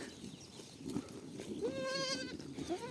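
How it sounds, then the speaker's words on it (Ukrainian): A young goat bleats a wavering, high cry over a soft outdoor pasture background, preceded by faint rustling. "Це мої козюли малі"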